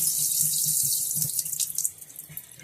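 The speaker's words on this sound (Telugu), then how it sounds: "వాటర్తో కడుగుతున్నాను అస్సలు చూడండి ఎటు నీరు అట్టే జారిపోతుంది" Running water from a tap pours steadily over feet being washed, a close continuous splashing flow that thins out toward the end.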